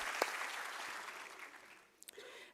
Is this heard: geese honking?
no